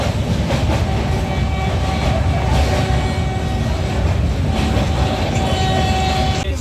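Steady loud roar of a train running at speed from Kolkata toward Benaras, heard from inside the coach, with continuous rumble and faint rail clatter and no talking.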